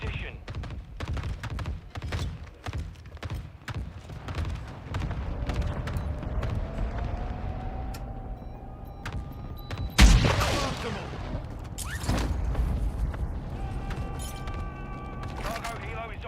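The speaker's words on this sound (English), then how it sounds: "Hostile mortar strike near your position." Mortar strike explosions in Call of Duty Modern Warfare II, heavy thuds and one loud close blast mid-clip amid scattered gunfire, with spoken voices heard over the combat.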